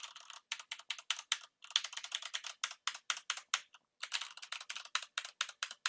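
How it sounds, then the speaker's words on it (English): Computer keyboard being typed on by a shoutcaster during a game broadcast, rapid crisp key clacks in irregular bursts with short pauses, close and loud, no talk. "the keyboard I had before this was way louder than that"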